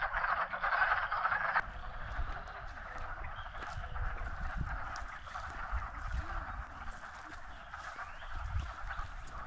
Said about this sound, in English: It's their spring mating calls. They make noise, and they're trying to talk to each other